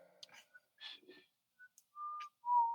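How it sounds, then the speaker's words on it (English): Short, breathy whistled notes, a few quick chirps followed by two longer held tones, close by with soft breaths in between. "So we just whistling now."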